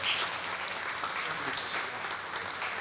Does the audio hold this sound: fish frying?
no